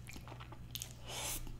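Wingstop voodoo fries topped with cheese and ranch being chewed close to the microphone, soft wet munching with a few crunchy bites, faint and alone.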